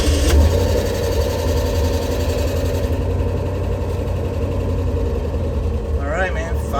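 A 1971 Scout engine fitted with Holley Sniper fuel injection fires on a cold start and settles into a loud, steady rumbling idle up close, with someone talking briefly near the end.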